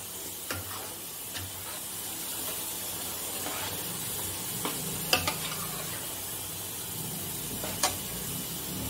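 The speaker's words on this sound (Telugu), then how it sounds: "వాటర్ పోసాక మరొకసారి బాగా కలుపుకొని ఇంకా ఈ మీడియం మంట మీదనే కర్రీ పులుసు అంతా దగ్గరికి వచ్చే వరకు ఉడికించుకోవాలి" Chandamama Bedisalu curry is stirred in a pan after water is added, with sparse scraping and clinking strokes over a soft steady bubbling and sizzle, close and fairly quiet, no talking.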